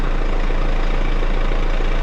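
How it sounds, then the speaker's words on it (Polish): A Mercedes W212 car engine idles steadily with its automatic gearbox warmed up, a low continuous rumble with a regular pulsing throb and no other sounds over it. "Silnik pracuje."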